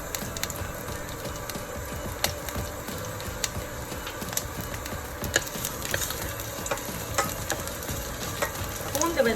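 Finely chopped ginger and garlic sauté in hot oil in a pan for palak paneer, giving a steady close sizzle with scattered crackles and stirring scrapes throughout.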